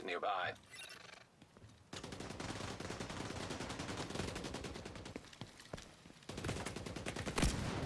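Gunfire in The Division 2, set in Washington, as a player fires a sniper rifle at a group of enemies: dense, continuous shooting from about two seconds on, fairly loud and steady, with a brief lull before a final burst.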